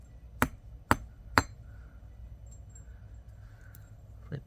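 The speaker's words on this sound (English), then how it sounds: "we ought to flatten slightly with the chasing hammer" A chasing hammer flattens a small metal link on a bench block, giving three sharp, evenly spaced metallic strikes close by, followed by quiet.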